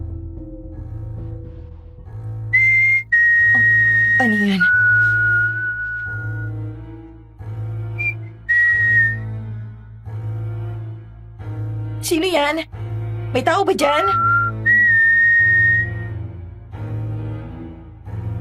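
Several short, clear whistled notes sound one after another, with a person speaking between them.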